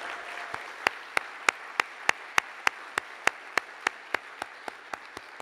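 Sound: applause for the speakers

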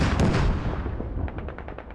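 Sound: rockets landing and exploding in Squad Ops video game

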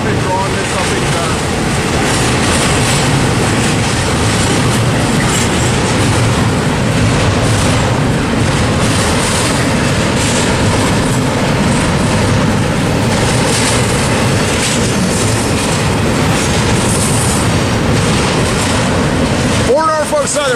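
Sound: Norfolk Southern train passing

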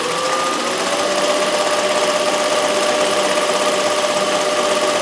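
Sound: embroidery machine running at 2,000 stitches per minute

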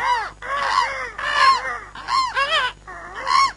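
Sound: crows cawing

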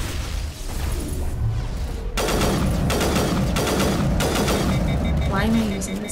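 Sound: gunfire from a gun in the video game Mass Effect

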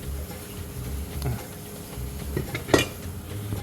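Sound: washing soaked shiitake mushrooms

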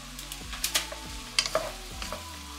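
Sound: cooked prawns added and stir-fried in pan

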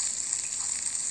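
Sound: frying food in the video game Toca Kitchen 2

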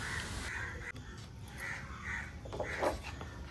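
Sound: crows cawing

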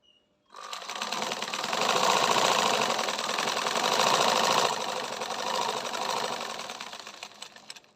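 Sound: sewing machine stitching children's sportswear fabric

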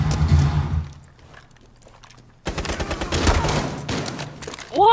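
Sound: gunfire in Tom Clancy's Rainbow Six Siege video game

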